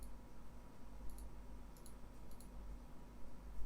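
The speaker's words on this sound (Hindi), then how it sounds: "मैं सिंपली क्लिक कर रहा हूँ।" Computer mouse clicks while a user works with the Photoshop lasso tool, a few faint, sharp clicks spread over a quiet room hum with low rumble underneath.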